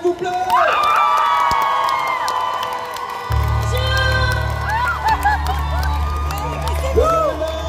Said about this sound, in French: Et maintenant, un tonnerre d'applaudissements.